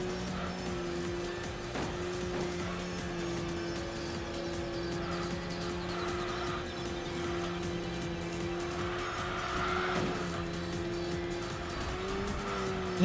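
A race car with a CVT gearbox in the racing video game Enthusia Professional Racing holds a steady, nearly constant engine drone, with tires squealing and skidding through corners.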